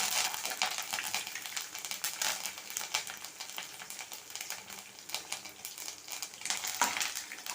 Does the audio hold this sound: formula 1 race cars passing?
no